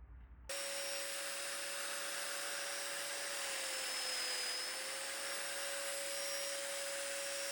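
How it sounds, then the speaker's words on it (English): A domino joiner with a trim stop cuts mortises into the ends of small wooden supports for a table, starting abruptly and holding a loud, steady, high-pitched whine with a slight dip in pitch partway through. "I use the domino trim stop to cut the mortises in the ends of the supports"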